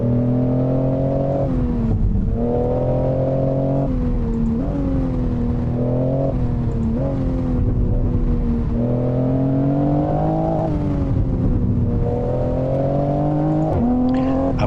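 A BMW M140i's engine and exhaust pull hard through repeated acceleration runs, the revs climbing and dropping at each gear change in a loud, steady in-car drone over about fifteen seconds.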